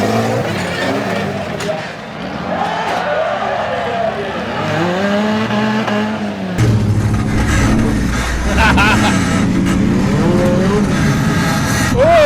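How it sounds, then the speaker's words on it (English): Off-road vehicle on 54-inch mud tyres with an LS-conversion petrol V8, engine roaring loud and close with rising and falling revs throughout, tyres scrabbling over rough ground. "Powered by an LS conversion, so there's a petrol V8 in this machine, and Sam can steer with both back and front"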